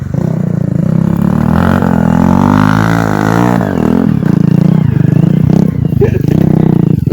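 A motorcycle on trail tyres climbs a hill, its engine droning loud and close, rising in pitch and then dipping, with rattling and scraping and some voices underneath.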